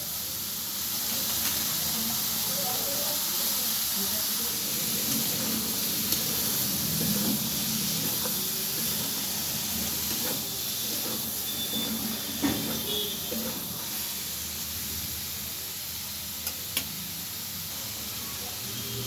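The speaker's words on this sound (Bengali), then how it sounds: "সেদ্ধ করে রাখা মটরগুলো দিয়ে দিলাম।" Boiled peas added to ridge gourd cooking in a pan give a steady, fairly loud hiss and sizzle that holds throughout, with faint stirring scrapes and no voices.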